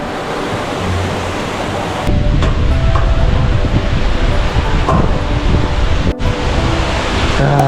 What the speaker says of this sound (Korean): 저기 웅장한 모습의 천당 폭포가 보입니다.